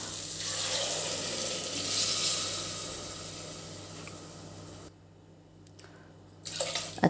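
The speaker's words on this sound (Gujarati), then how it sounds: "આ 3 કપ પાણી એડ કર્યું" Water pours steadily into rice and masoor lentils in a pressure cooker, a close, continuous rushing that stops abruptly, then brief clinks.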